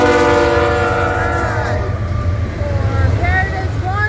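A BNSF freight train passes on the Marceline Subdivision with a loud, close multi-tone horn blast that fades into rumbling rail noise, with a man calling out over it.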